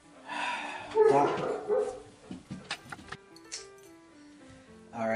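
A dog barks a few sharp, close barks amid a tabletop game session, with people talking over and around it.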